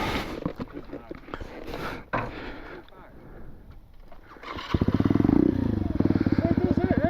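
A 2021 Bullit Hero 125 motorcycle engine runs behind people talking, first as a low rumble under the voices, then rising into a loud, fast, steady buzzing rev close by.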